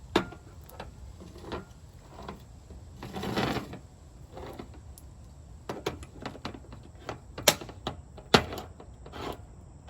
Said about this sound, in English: So first let's open a can of chickpeas.